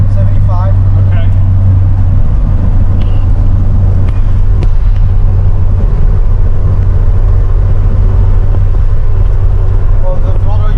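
A Sierra car's engine drones steadily on the road with a strong low rumble, throttle rising, while people talk over it.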